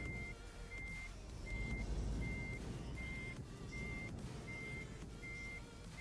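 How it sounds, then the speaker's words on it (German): Reversing beeps from a double-trailer truck in a driving game, steady evenly spaced electronic tones repeating roughly every 0.6 seconds over a continuous low engine rumble. "Kleiner Blick, ich muss kurz rückwärts fahren."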